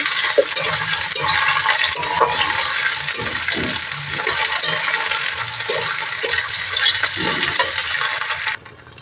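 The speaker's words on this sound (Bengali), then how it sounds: "কাজু কিশমিশটাকে একটু ভেজে নেব" Cashews and raisins frying in a pan for fried rice give a steady, loud sizzle that runs the whole way with no break, broken now and then by soft stirring scrapes, then drop off sharply near the end.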